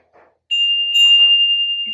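An antique bell rings with a bright, sustained single tone. It is struck once, struck again soon after, and rings on steadily at close range, with faint soft background sounds before and during it.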